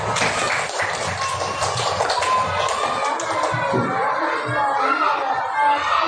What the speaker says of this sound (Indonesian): tepuk tangan yang meriah, Nak